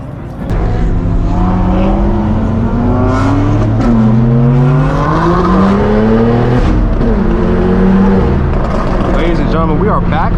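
Straight-piped BMW M4 G82 and other M cars, including a red M4, accelerating on a public road after a big BMW meet, engines roaring loudly and continuously with rising and falling revs, voices talking over the exhaust.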